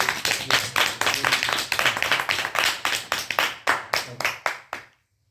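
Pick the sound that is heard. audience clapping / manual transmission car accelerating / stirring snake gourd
audience clapping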